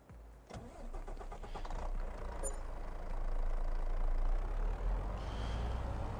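A truck engine starts in the farming game Farming Simulator 22, a brief cranking burst followed by a rumbling low idle that grows slightly louder and steadier, with no talk over it.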